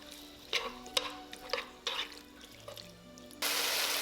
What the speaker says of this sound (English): Put the marinated beef inside and cook in high heat until medium well.